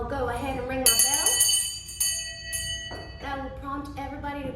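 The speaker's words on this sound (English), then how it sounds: "I'll go ahead and ring my bell." A handheld school bell rung by hand before classes, giving two bright ringing strikes that sustain and fade, with a voice talking before and after them.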